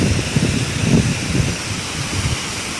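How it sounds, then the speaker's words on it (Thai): A small waterfall spills over the Phon Lao weir in Erawan, Loei, giving a steady rushing wash with some wind buffeting on the microphone. "น้ำตกน้อย นี่เขื่อน"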